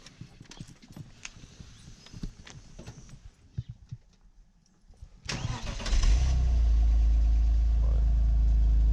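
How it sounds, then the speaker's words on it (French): BMW petrol engine cold start: quiet rustling and clicks first, then a crank and a catch into a loud, steady, rumbling idle that holds to the end. "Allez, démarre le moulin, voir si ça démarre bien."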